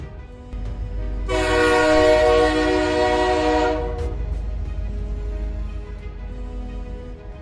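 A train horn blares in one long, steady, loud blast, then cuts off, leaving a low rumble of background noise.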